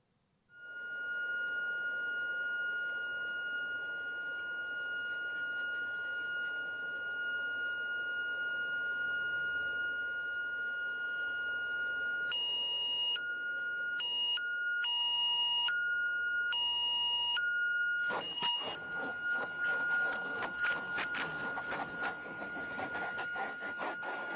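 A steady electronic cockpit landing-gear warning tone beeps continuously and loudly, then switches to a faster, choppier pattern, with a burst of clattering noise near the end.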